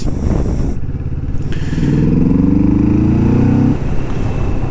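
A loud Kawasaki Vulcan S 400cc motorcycle engine with original exhaust revs up, its throaty exhaust rising in pitch for a couple of seconds before dropping back to a rough idle.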